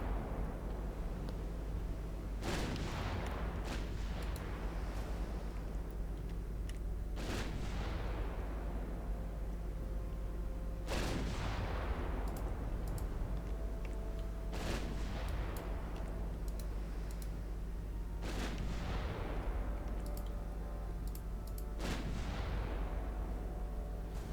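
Warship gun turrets in the Ultimate Admiral Dreadnoughts naval game fire about six times at irregular intervals, each a heavy boom with a long fading rumble, over a constant low engine drone and no speech.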